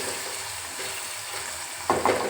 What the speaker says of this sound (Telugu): ఆనియన్స్ బ్రౌన్ కలర్ వచ్చాయో లేదో ఒకసారి చెక్ చేసుకుందాం ఆనియన్స్ లైట్ బ్రౌన్ కలర్ వచ్చేసాయి